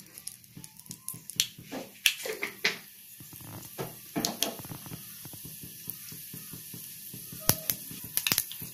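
Mustard seeds and urad dal spluttering in hot oil: scattered sharp pops and crackles over a soft sizzle, close and irregular, with bursts clustering at times and no talking.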